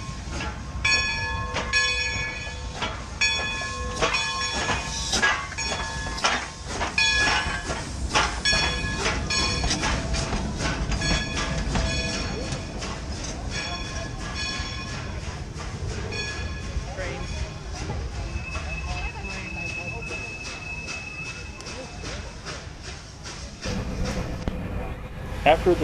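Dollywood steam locomotive 192 pulls out of the station with rapid rhythmic chuffing that slows and thins out, a brief whistle tone near the end, and people talking nearby.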